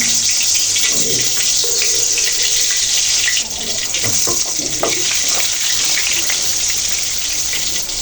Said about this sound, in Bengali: তেলটা একদম গরম করে নিয়েছি এরপর এই পরোটা এইভাবে দিয়ে দেবো